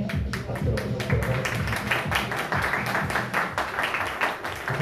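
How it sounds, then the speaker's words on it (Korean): An audience at a classical music concert and party applauds, steady rhythmic clapping from many hands, loud and close, running throughout with a faint voice underneath. "박수로 부탁드리도록"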